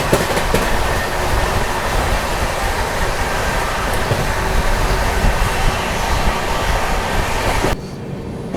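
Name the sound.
Tamil Nadu Superfast Express train running on rails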